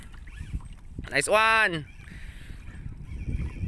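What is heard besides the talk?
fishing boat being pulled through water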